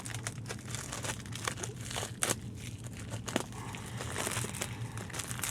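A new tourniquet unwrapped from its paper packaging: continuous close crinkling and crumpling of paper with a few sharper tearing rips, no speech.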